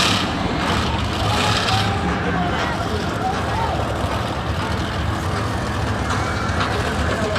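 A monster truck engine roars loud and steady at a Monster Jam event in Tampa, a continuous dense rumble filling the whole stretch alongside arena noise, with no pauses.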